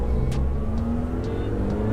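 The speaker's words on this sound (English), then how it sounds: "Let me finish bedding in the brakes" A car drives steadily while new brakes are bedded in, its engine a continuous mid-pitched drone with road and wind noise and a few faint higher whirs.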